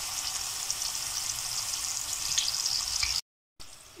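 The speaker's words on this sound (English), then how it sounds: "Once your oil gets calm, as you can see, it is not fizzling around, then it means your crisps are done" Arrowroot (nduma) crisps fry in hot oil with a steady, bright sizzle and small pops, close and moderately loud, broken by a brief silent gap near the end.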